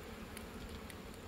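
Honey bees humming at an open hive while a smoker is in use, a faint steady buzz with a few brief louder passes close by.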